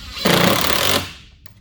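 A single loud, short burst of a power drill driving a screw into a Kawasaki KRX 1000 fender extension, lasting under a second, then fading into quiet.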